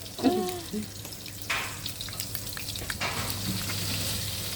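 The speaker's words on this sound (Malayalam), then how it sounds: "കടുകിട്ടു. കടുക് പൊട്ടിക്കൊണ്ടിരിക്കുന്നു." Mustard seeds pop in hot oil sizzling close by, with scattered small pops and crackles, plus a couple of brief clatters; no one speaks.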